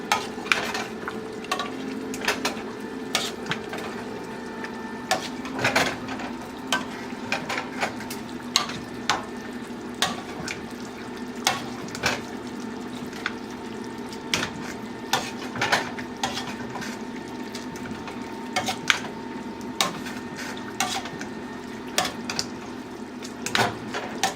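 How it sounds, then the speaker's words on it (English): A potato masher working cauliflower in a pot, repeated irregular clinks and thuds of metal on the pot over a soft continuous simmer, fairly close, with no talking. "take a mashed potato smasher and smash up your cauliflower"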